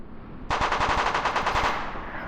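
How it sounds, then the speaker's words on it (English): Rapid automatic gunfire in a VR shooting game, a loud, sharp burst of fast repeated shots starting abruptly and running steadily to the end, with no talking. "Is Nick really trying to shoot us from all over here?"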